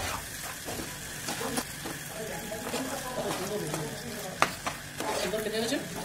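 Pasta with white sesame seeds fries in a little oil while a utensil stirs it, giving a busy sizzle with scraping strokes and a few sharp clinks.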